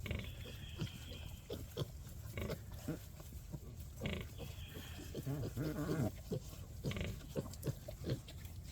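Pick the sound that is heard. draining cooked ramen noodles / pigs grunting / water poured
pigs grunting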